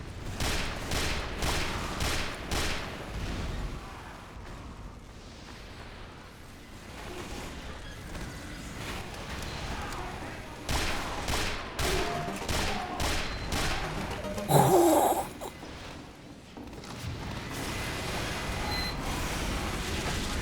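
Spy's pistol in Team Fortress 2 fires in rapid bursts of sharp cracks, with gaps between the volleys and other game noise in the background.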